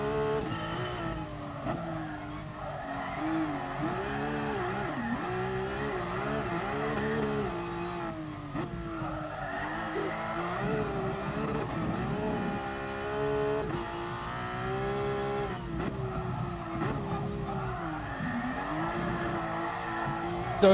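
Car drifting around the Nordschleife in GT Sport, engine revving and wavering continuously as the tyres slide, with pitch rising and falling through corners and no pauses.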